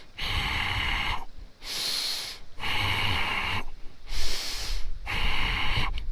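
Forceful breathing during a seated dynamic-tension exercise: five loud, close, rhythmic breaths alternating between sharp nasal inhales and hard exhales, each about a second long with brief pauses between.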